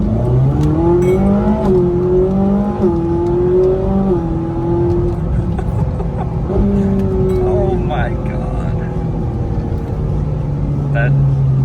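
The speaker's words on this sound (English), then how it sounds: "That downshift is the best thing I've ever heard." A Ferrari 458 Spider V8 revs loudly and close, pitching up and down, then settles into a steady drone across a series of downshifts.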